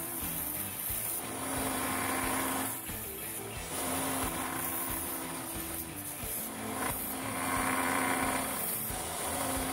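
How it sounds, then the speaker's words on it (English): A handmade wooden butterfly knife blade being sharpened, heard as continuous close rasping and rubbing strokes that swell and ease in a loose rhythm, fairly loud and with no talk. "Before you assemble the knife, you should sharpen it."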